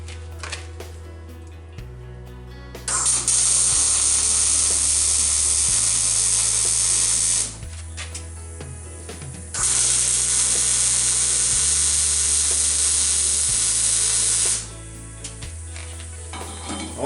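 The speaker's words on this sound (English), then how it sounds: "I'm going to weld this out." A pipe joint clamped in a pipe vise is arc welded, producing two long, loud, steady crackling sizzles separated by a pause, over a low stepped electrical hum from the welding machine.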